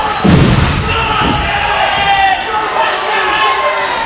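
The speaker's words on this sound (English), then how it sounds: "Listen to this crowd." A pro wrestling crowd in Washington, Indiana roars steadily through a match, a loud sustained mass of cheering with a heavy thud at the start, under a commentator's voice.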